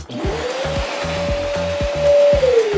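A wired commercial vacuum cleaner whines up to speed and runs with a steady high tone over rhythmic low thumping, loud and close, then begins winding down at the end.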